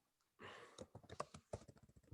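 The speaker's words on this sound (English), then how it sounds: "So after typing like any code here" Code being typed on a computer keyboard, a quick irregular run of close, crisp key clicks with short pauses between bursts.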